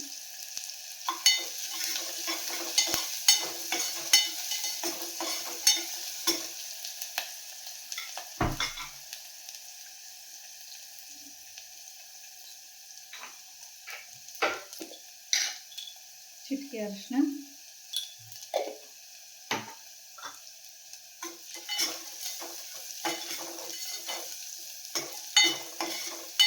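Garlic and spices tempering in hot oil for a radish, lentil and tomato sambar, with soft sizzling and scattered stirring clinks and scrapes throughout, a voice speaking briefly over the cooking.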